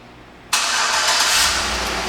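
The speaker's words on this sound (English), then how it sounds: "and the car starts right up" A 2012 Chevrolet Tahoe LTZ 4WD engine abruptly catches on remote start, then settles into a steady, loud idle rumble nearby, with no voices.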